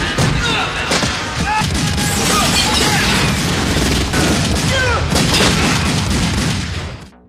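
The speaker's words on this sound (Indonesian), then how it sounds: "dari situ terjadi tembak-tembakan" Rapid gunfire bursts and booming shots crack through a film shootout scene, dense and loud with crashes and impacts piling together, over the scene's noisy soundtrack.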